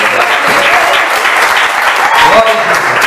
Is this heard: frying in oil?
no